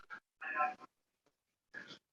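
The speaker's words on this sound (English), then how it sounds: "Sorry, I got a barking dog." A pet dog named Mickey barks in a kitchen, giving a few short, sharp bursts with gaps between them, moderately loud and close by.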